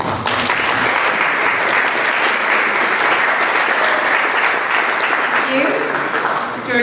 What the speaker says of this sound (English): we're going to go with the best, the loudest applause